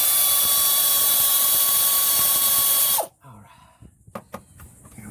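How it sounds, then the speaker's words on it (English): An air ratchet spins bolts off a vehicle alternator with a loud, continuous high whine for about three seconds, then stops abruptly, followed by faint clicks and tool handling. "thank God for air ratchets"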